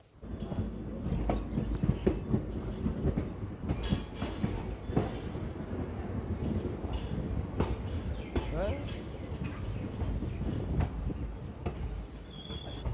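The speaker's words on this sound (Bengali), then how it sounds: "একদম রাইট টাইমে ট্রেন বেরিয়ে গেল আমাদের তিন পাহাড় থেকে নটা পঞ্চাশ মিনিটে" A passenger train leaves Teenpahar station bound for Rajmahal, its steady rolling rumble and wheel clatter filling the scene at moderate volume, with faint background voices.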